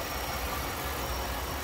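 A 2003 Mercury Marauder sedan's 4.6-liter dual overhead cam V8 idles smoothly with an automatic transmission, a steady, close, low rumble with even hiss and no breaks.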